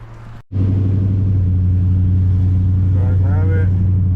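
A lowered, LS-swapped OBS car pulls off on a test ride, its engine a loud, steady low drone that holds after a brief cut, with a voice speaking briefly over the rumble.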